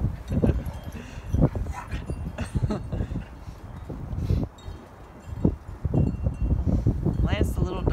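A small Boston Terrier mix yaps and growls in quick bursts while playing with a big American Bulldog, amid scuffling and excited voices talking nearby.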